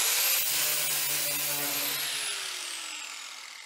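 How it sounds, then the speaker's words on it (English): A flap wheel grinding the burr off a drilled hole in rusty metal: a steady, loud, high-pitched whine with harmonic tones that slowly drop in pitch as the tool winds down. "I just take the flat wheel, knock those off after I drill the hole"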